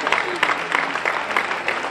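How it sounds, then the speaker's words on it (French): An audience at a sand-queens beauty gala gives a short burst of applause as the winners are announced, with a voice speaking over the clapping. "Sur vos applaudissements."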